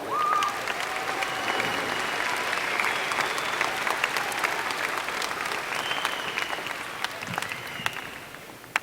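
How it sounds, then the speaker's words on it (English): Sustained audience applause at a high school graduation ceremony, steady dense clapping from a large crowd filling the space for several seconds, with a few louder individual claps near the end. "To the graduates, give yourself a round of applause"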